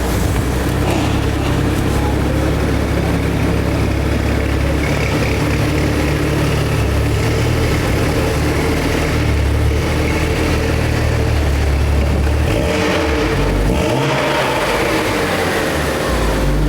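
A BMW 135i with a Stage 3 tune runs loud and close, its engine droning heavily with a deep, sustained rumble that swells and dips, then a brief rise near the end.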